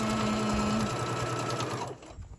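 A sewing machine stitches fabric for a Christmas Santa sack in a fast, steady whir of needle strokes. It runs close and loud, slows, then stops near the end, leaving a quiet room.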